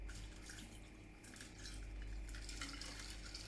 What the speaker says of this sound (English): So I just go ahead and pour it inside there.